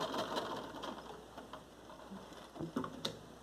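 A sewing machine stitching a TNT non-woven fabric bag, running in a soft, fast ticking patter, faint and close, with a few louder clicks near the end and no talking.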